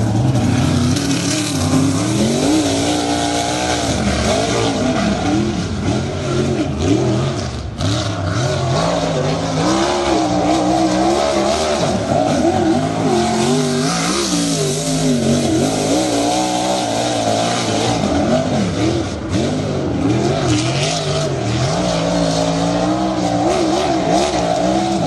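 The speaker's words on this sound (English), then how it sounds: "hearing a non-wing sprint car screaming its guts out" A non-wing sprint car engine screams continuously at high revs, its pitch rising and falling as it circles the track, loud and sustained throughout.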